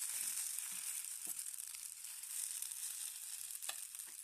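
Oats chilla batter frying in a little oil on a pan: a soft, steady hiss of sizzling with a few faint crackles and pops, quiet and alone, with no talking.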